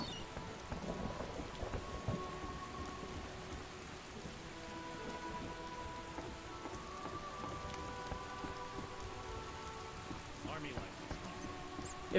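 Steady rain and rumbling thunder in The Witcher video game, a continuous hiss of rainfall with low rolls of thunder throughout, moderately loud with no voices.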